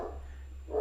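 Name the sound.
dog barking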